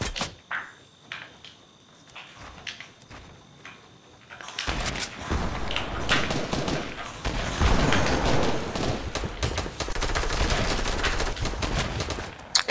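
Gunfire crackles in a Fortnite Battle Royale match: sparse distant shots at first, then dense, loud bursts of rapid fire, with some talking mixed in.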